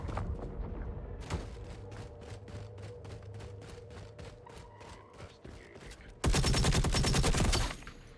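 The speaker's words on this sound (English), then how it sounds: "Getting shot at by NPC?" NPC gunfire in the video game Eve Vanguard crackles as a long run of evenly spaced rapid shots, then a louder dense burst near the end, with a soft voice faintly underneath.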